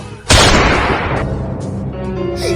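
A toy gun goes off with one sudden loud blast in a comedy skit, followed by a lingering noisy decay and faint trailing sounds.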